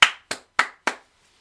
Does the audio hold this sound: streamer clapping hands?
yes